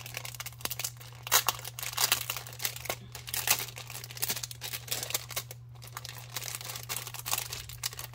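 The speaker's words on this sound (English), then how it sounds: "I love the crackle sound of paper." Wrapping paper crinkling and crackling as a gift is unwrapped, a continuous papery rustle with scattered crisp bursts and tears, close up, with a steady low hum underneath and no talking.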